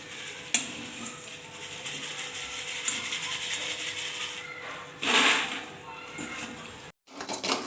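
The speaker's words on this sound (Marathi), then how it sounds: "सगळ्यात पहिले आपल्याला हे जे शेंगदाणे आहेत ते काढून घ्यायचे आहेत" Roasted salted peanuts scooped from a home kitchen pan, giving close scraping and rattling clatter with a brief louder burst of tumbling nuts midway, over steady background hiss.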